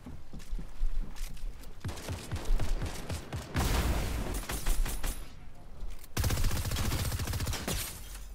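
Rapid bursts of gunfire crackle in a Fortnite match, with several volleys and single sharp shots close by, separated by brief gaps and mixed with game effects.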